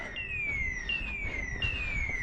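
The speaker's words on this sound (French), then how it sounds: "Et l'alarme elle déclenche." An alarm sounds at an automatic greenhouse, a loud electronic siren tone sweeping downward and restarting in repeated cycles, steady and close.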